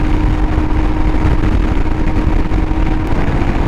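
A 2022 Royal Enfield Himalayan with its 411cc engine climbing a hill at about 70 mph, a steady, loud engine drone buried in heavy rushing wind noise from start to finish.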